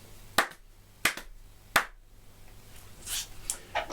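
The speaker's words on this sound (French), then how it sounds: "Et j'applaudis des deux mains." Three sharp hand claps ring out about a second apart, close and distinct, followed by soft rustling noise.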